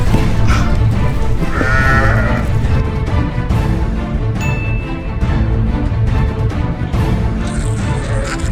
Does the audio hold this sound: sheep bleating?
yes